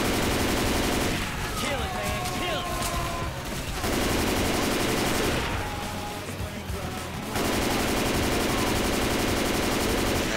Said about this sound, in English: Shoot down the stairs and kill everything!